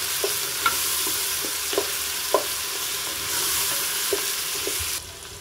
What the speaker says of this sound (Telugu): మనం పచ్చివాసన పోయే వరకు అల్లం వెల్లిగడ్డ వేయించుకోవాలి.